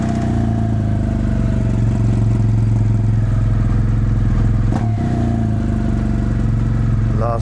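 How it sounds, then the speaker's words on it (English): A BMW motorcycle idles steadily right after a cold start, its loud, even engine note holding throughout with a brief clatter near the end. "We just pulled out the BMW. Let's go for a cold start."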